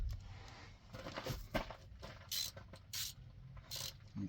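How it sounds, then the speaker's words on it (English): A new accelerator pedal on a 1965 Ford F100 is being tightened at the top, giving quiet, close mechanical clicks and ratcheting turns in short irregular bursts with brief pauses between them. "Let me tighten up the top a little bit."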